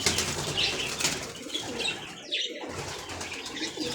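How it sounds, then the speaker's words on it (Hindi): Fawn and silver doves in a breeding loft, wings flapping in quick bursts close by, with a soft coo or two over a steady background hum. "ये फॉन डव है, सेम इसी तरह नीचे सिल्वर डव है और वो भी सिल्वर अंडों पे बैठी हुई है।"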